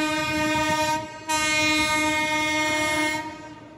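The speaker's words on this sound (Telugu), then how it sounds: "మా పక్క ట్రాక్లో ఇంకో ట్రైన్ అయితే వస్తుంది." A passenger train runs past on the adjacent track as a train enters Nellore station, with a loud, sustained horn blast close by over the rumble and clatter of rolling carriages. The horn breaks off briefly, returns, then fades slightly.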